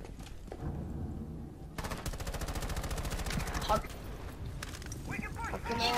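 Rapid automatic gunfire in Rainbow Six Siege, a sustained burst of evenly spaced shots after a quieter opening, with players talking over it throughout.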